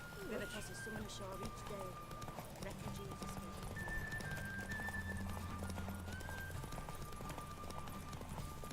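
Roach, the horse in The Witcher 3 next-gen edition, gallops fast with a rapid, even clip-clop of hooves and a whinny, under game music and people talking.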